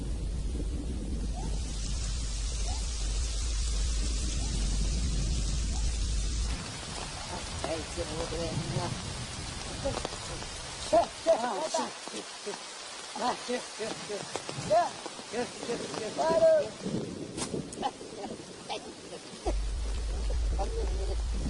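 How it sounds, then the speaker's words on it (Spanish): Heavy jungle rainstorm pouring down hard, a dense steady hiss of rain with gusts of wind, later thinning into more scattered, uneven drumming of drops before the downpour swells again. "En cuestión de segundos la tormenta vuelve a descargar con fuerza."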